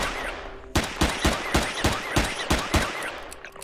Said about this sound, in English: Finish this guy off with the pistol.